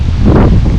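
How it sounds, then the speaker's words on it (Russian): Strong wind during a seaside storm buffets the microphone as a continuous, loud, broadband roar with gusty swells, no talk over it. "Ветер сильный даже, я бы сказал бы."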